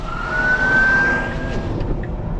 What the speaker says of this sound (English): Now there's a police car or something coming,